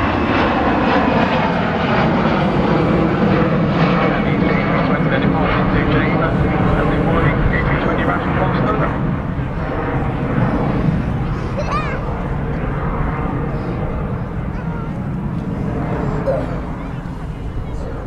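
An airliner at Manchester Airport, apparently a Ryanair jet, gives off a loud, sustained engine roar that slowly shifts in pitch, with a dog barking now and then and people talking nearby.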